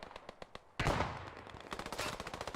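Machine gun fire in a multiplayer war game: quick rhythmic bursts of distant rattling shots, then a louder close blast and a longer chattering stream of rounds, with no talk.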